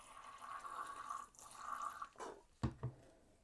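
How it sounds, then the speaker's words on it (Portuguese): Water is poured into a sample during an electrical conductivity experiment, making a quiet steady trickle that ends in a couple of distinct drips, with no talking. "Será que se nós adicionarmos água,"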